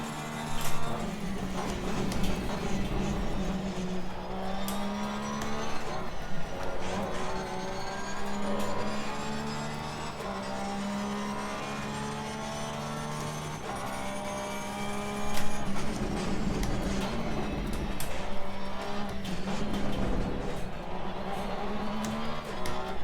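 A Porsche race car laps the Paul Ricard circuit, its engine note droning loud and close and rising and falling through gear changes and acceleration, with a driver talking over it at times.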